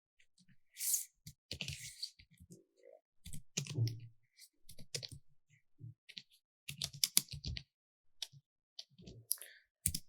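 Fingers tap keys on a computer keyboard while entering text in Tally Prime accounting software, producing irregular bursts of close, crisp clicks separated by short pauses.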